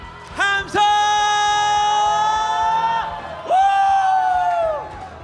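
Church congregation at a New Year revival service lets out a loud final shout of praise, a sustained collective roar of voices that breaks briefly and swells again before fading.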